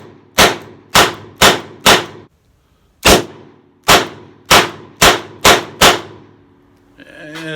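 A 2020 Colt Python revolver fired in rapid repeat strings: four quick loud shots, a short pause, then six more in fast succession, each a sharp close crack with a ringing tail.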